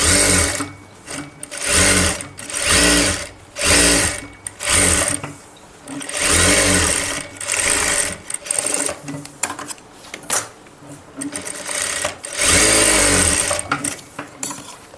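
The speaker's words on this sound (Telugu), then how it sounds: "ఇప్పుడు చుట్టూరు కుట్టేసేసుకుందాం." A sewing machine stitches around a garment lining in loud, close bursts of rapid whirring, stopping and starting about every second or two across the stretch.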